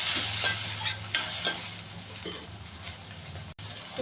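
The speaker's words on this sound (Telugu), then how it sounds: "టమాటా బాగా ఆగినాలండి." Tomatoes sizzle and fry in a pan with mustard-style tempering of urad dal, cumin and garlic, steady close frying hiss with repeated stirring scrapes throughout, no talking.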